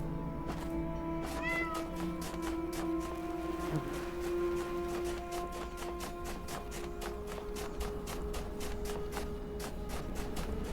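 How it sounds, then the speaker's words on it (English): A cat in a video game meows several times early on, high and close, over a steady game soundscape with repeated light ticking or tapping sounds and no speech. "We may have to rescue a trapped cat."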